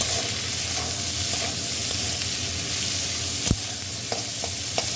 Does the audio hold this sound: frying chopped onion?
yes